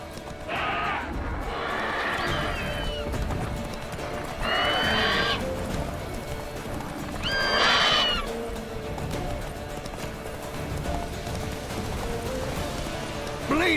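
A horse in The Witcher III whinnies in several sharp, rising bursts over a steady bed of galloping hoofbeats and low rumbling game ambience.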